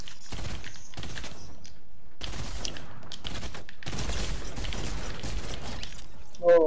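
Rapid bursts of weapon fire crackle in a Fortnite match, loud and dense, with brief gaps between volleys and a short mechanical rattle at the end.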